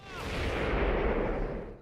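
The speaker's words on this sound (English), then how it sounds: "douse the other sock in oil to light the cannon and blow a hole in the side of the ship" Cannon firing in Gold and Glory: The Road to El Dorado on PS1, a ship's cannon blowing a hole in another ship's side: a single sustained, loud booming blast with rumbling low end that swells and fades over two seconds.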